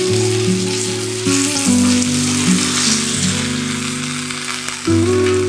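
Bangda (mackerel) fish sizzles and fries in a pan, giving a loud, continuous crackling sizzle with a few soft stirring or handling knocks, close up and with no talk.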